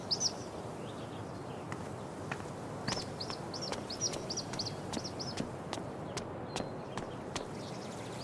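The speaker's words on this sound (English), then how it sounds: "That might be our feathered friend. I wonder if this is the bird that woman is looking for." In Life Is Strange True Colors, a small bird gives short, high chirps in quick strings, fairly faint and set over a steady outdoor ambience with soft footstep-like taps.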